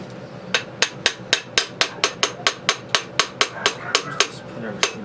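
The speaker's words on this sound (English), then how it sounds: "Tap with the hammer. You know, I'm just tapping lightly." A hammer tapping lightly while a T96 is being reassembled, about twenty sharp, evenly spaced metallic taps in a steady rhythm, close and distinct with no talking.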